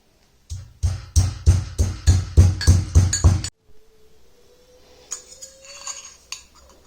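Masala spices for homemade masala chai are pounded in a mortar with about a dozen steady, ringing metallic strikes in quick rhythm, then quieter clinks and scraping follow.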